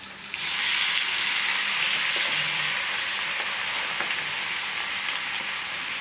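Red chili and ground garlic dropped into hot tempering oil, a bright crackling sizzle that bursts up after a brief quiet start and then holds steady and close.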